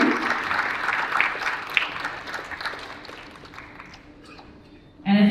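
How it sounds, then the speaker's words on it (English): Audience applause at a startup business event in the UAE, a broad wash of clapping that builds, fades gradually, then swells again loudly at the very end. "Please, a huge round of applause for him for this incredible story."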